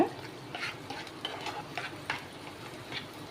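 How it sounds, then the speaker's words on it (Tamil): Masala paste for paneer butter masala fries in oil and butter in a pan, giving a soft steady sizzle broken by several light stirring scrapes and clinks of a utensil against the pan, with no talking. "இந்த மசாலாவை எண்ணெயில் கொஞ்சம் வறுத்து விட்டுக்கோங்க"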